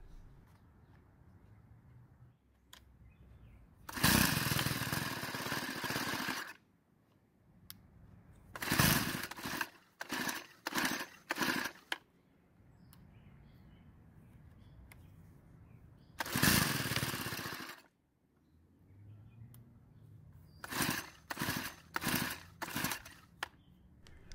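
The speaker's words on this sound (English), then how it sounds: "Next I'll try and start it and show you what it's doing." A Stihl string trimmer with a carburetor problem being pull-started repeatedly: bursts of loud roaring rasp, some long, some in quick clusters of short pulls, separated by quiet gaps, never settling into steady running.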